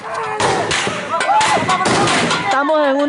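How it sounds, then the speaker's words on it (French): Gunfire at a street barricade in Nicaragua, several sharp reports mixed with overlapping shouting voices, loud and close. "Dès l'aube, les rues résonnent au son des coups de feu."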